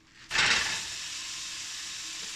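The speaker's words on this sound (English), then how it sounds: "we're now going to take our pound of beef and fry her up" Ground beef hits a hot frying pan with a sudden loud sizzle that settles into a steady, hissing fry.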